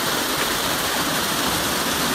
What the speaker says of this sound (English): So this is Mono Creek Falls.